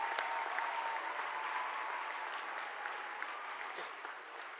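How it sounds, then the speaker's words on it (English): Steady, even applause from a large audience at a school international week opening ceremony, a distant roomy wash of many hands that fades slightly toward the end. "So big round of applause to all those people who gave their message to us today."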